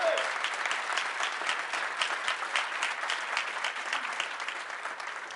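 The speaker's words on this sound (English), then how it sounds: "Give Moses and Devin a big round of applause." An audience at a company event bursts into dense, sustained applause for the marketing team, a steady wash of many hands clapping that fades slightly toward the end.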